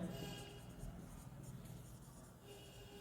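Pen writing on paper while working through a quadratic equations practice problem, a soft continuous scratching at close range with faint room hum beneath.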